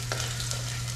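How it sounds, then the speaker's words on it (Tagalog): Celery and garlic sautéing in a pan give a continuous close sizzle with light stirring over a low steady hum, with no voices. "mag-start na tayo mag-isa ng ating celery with garlic. Gisa na natin."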